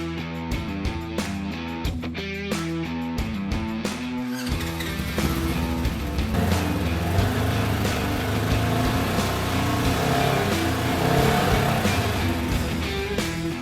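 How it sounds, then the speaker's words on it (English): A UTV engine, just fitted with a new drive belt, revs in neutral with a rough mechanical rattle that starts choppy and then swells into a steadier, louder churning roar nearby. "You can accomplish the same thing by lightly revving the engine in neutral once you start the machine."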